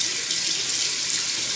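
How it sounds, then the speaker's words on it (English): Water runs steadily from a tap into a sink while hair dye is rinsed out, a loud continuous splashing rush with no talk. "Yeah, the water's just going through."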